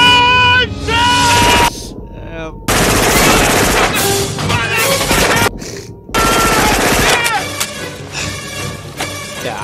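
Gunfire from the 1987 film Predator, long loud machine-gun fusillades broken by brief silent gaps, with film soundtrack and voices mixed in.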